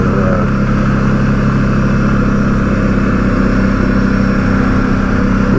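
An ATV engine running steadily while driving slowly along a trail, a loud, close, continuous mid-pitched drone with a constant rumble and no talking.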